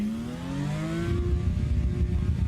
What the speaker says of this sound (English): Let's see what the limiter sounds like.